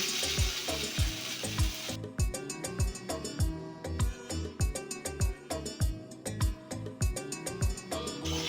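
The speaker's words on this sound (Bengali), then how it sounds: "এবার দিয়ে দিতে হবে আগে থেকে ভেজে রাখা কুমড়ো আর আলু" Fried pumpkin and potato are stirred into khichuri in a pan, giving a steady sizzle at first and then a regular series of scraping, knocking stirs that repeat roughly every half second, close and moderately loud.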